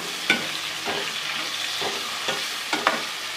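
Finely chopped tomatoes fry in a pan for a spicy curry with a soft, steady sizzle, while a spoon scrapes and stirs in several brief clanks spaced through the few seconds.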